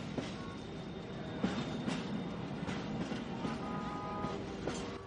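A train rides along the tracks in the South Bronx with a steady rumble and intermittent metallic clicks and squeals from the rails, moderately loud and continuous, without speech.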